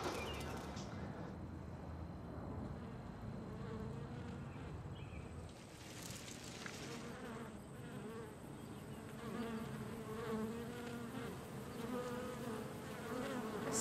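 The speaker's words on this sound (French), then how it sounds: "Salut les abeilles!" Bees buzzing steadily and continuously up close, a dense droning hum that runs throughout without any talk.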